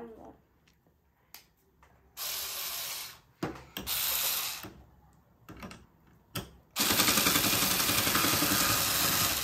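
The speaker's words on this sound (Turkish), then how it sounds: "Koy bakayım matkabı, çalıştır." A child's toy drill whirs in short bursts with pauses between, ending in a longer steady run, while a child and an adult talk quietly in the gaps.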